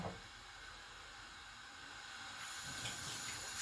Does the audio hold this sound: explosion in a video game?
no